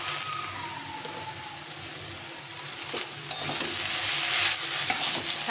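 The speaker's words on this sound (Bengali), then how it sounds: "শাকটা দিয়ে একটু নেড়েছে," Pui shak greens cooking with jackfruit seeds are stirred in a hot pan, a soft continuous sizzle with scraping stirs that grow louder and busier toward the end.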